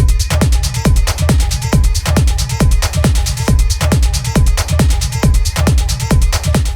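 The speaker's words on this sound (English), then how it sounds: "This is kick, bass, drum tops consisting of shaker, hats and claps, and a lead sound." A looping electronic dance beat with a steady thumping kick, deep bass, crisp hi-hats and shaker, and a synth lead riding on top, loud and driving.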